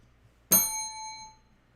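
A single bell is struck once, giving a bright ding whose clear metallic ring fades out over about a second, alone and close.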